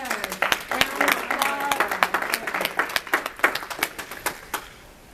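A small audience claps for Bob, uneven individual hand claps spread across the room, fairly close and steady, then thinning out near the end, with a voice talking over the first part.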